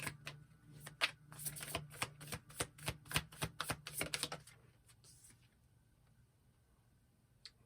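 A deck of tarot cards is shuffled in a fast run of crisp riffling clicks that stops partway through, followed by a quiet stretch and one soft tap.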